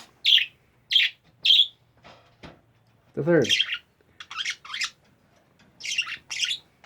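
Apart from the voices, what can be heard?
budgie birds chirping and squawking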